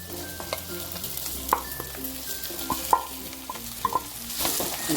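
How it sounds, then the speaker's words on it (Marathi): Crushed potato sautéing with chili and garlic in a pan, a light sizzle under repeated scraping and stirring clicks of a spoon against the pan, close and steady with no talk. "छान परतून घेऊया आपण थोडीशी हळद टाकून घेऊया आणि चवीनुसार मीठ घालून घेऊया"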